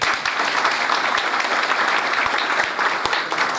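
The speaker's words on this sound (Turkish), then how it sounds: "onlara da bir kocaman alkış istiyorum" Applause from a gathered crowd inside a CHP campaign office in Silivri, a dense burst of clapping that holds steady and fairly loud for several seconds.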